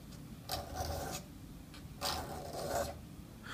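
A lathe cutting tool is sharpened by hand, giving soft rasping, rubbing strokes in short repeated bursts, close and fairly quiet, with no talking.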